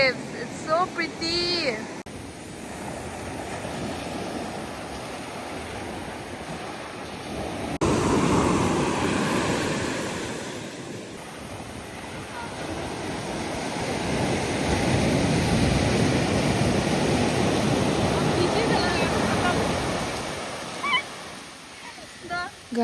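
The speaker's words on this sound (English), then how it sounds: "see the waves" Ocean surf rolls in at Beach Road in Kochi, a broad roaring wash that swells and recedes with wind buffeting the microphone, and a brief birdlike squeak near the start.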